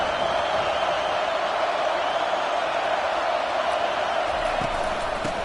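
A large football stadium crowd at a college game, Missouri against Ole Miss, roars in a steady, sustained wash of cheering noise, loud and continuous throughout.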